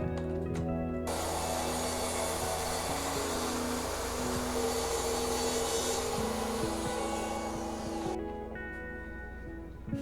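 A power saw whines steadily as it cuts through a melamine-faced chipboard (MFC) panel, a loud continuous buzzing drone with gritty cutting noise lasting about seven seconds before spinning down.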